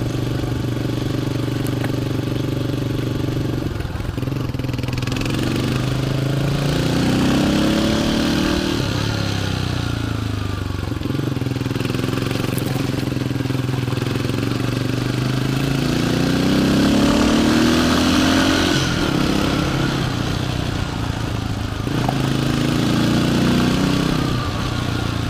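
Motorcycle engine running steadily through a ride, with continuous mid-pitched drone and rising and falling revs as the throttle changes, close and fairly loud throughout.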